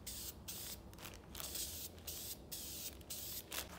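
Several short bursts of hissing spray as oil is sprayed onto a Banks ram air intake filter for a Ford Super Duty, close by, each lasting a fraction of a second with brief pauses between.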